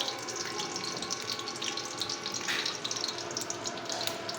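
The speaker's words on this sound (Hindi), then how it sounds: "अब इसमें डालूँगी, ये थोड़ा सा घी गर्म हो जाए" Desi ghee heats in a pot for rice, giving a soft, steady sizzle and crackle with scattered small pops throughout, with no voices.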